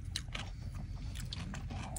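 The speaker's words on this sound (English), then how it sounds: "I forgot to try the pickled radish, so we're gonna try it" Crunchy pickled radish from a Bonchon meal is bitten and chewed close to the mic, several sharp crisp crunches in quick succession over a couple of seconds.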